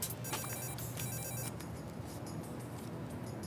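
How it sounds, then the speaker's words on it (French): An office telephone rings with an incoming call, a bright repeating electronic tone heard in short bursts over a steady background hum, then fading. "vous avez un appel de Mademoiselle Robin sur la une"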